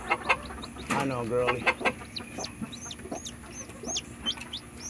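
Gamebird hens clucking and calling in a pen, several short repeated clucks near and far, with a person speaking briefly over them.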